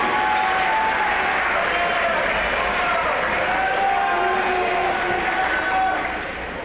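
An audience at a school homecoming event gives a sustained round of applause for the king and queen candidates and class representatives, dense steady clapping with crowd noise that tapers slightly at the end.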